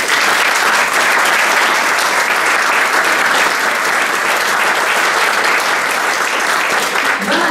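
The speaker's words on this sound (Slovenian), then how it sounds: "En aplavz za to." Concert audience applauds steadily and loudly for a horn ensemble at a 25th anniversary jubilee concert of hunting horn players in Groblje, a dense wash of clapping filling the whole span without a break.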